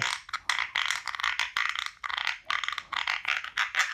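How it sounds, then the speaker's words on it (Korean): A rapid series of dry, rasping clicks repeats in bursts, a studio foley frog croak made by a sound effects artist, close and crisp with short pauses between runs. "이게 개구리 소리. 야, 스튜디오에 지금 개구리가 한 10댓마리 들어온 것 같아."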